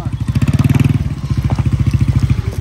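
A shepherd's motorcycle engine runs close by with a steady, rapid putter that swells briefly and then settles into an even idle-like chug.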